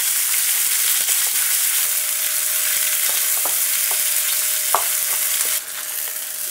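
Ham for kimbap fries gently in a pan on low heat: a close, steady sizzling hiss broken by scattered sharp ticks and pops, with a brief spatula clink near the end.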